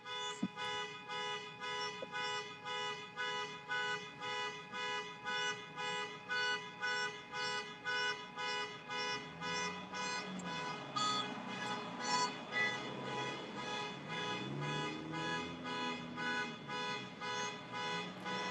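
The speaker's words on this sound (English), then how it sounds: "Start dancing to the car alarm." A car alarm blares a rapid, repeating electronic tone in regular pulses, steady and insistent, with faint voices murmuring underneath partway through.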